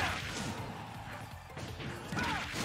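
A forward smash attack landing in Super Smash Bros, a sharp crashing hit with whooshing swings around it, moderately loud amid busy game sounds.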